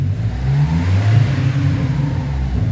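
A GM Astra's engine revs steadily and loudly up close, a continuous throaty drone with no speech over it.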